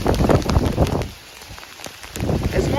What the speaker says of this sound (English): It's more like hail than snow